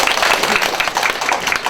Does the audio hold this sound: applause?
yes